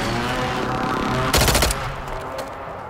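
Video game gunfire: a rapid burst of automatic shots crackles loudly over a background of constant battle noise, lasting under half a second.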